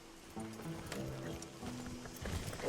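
In the Red Dead Redemption 2 video game, horse hooves clip-clop at a steady walking pace, soft and close. They play under quiet game ambience and low tonal music, with no speech.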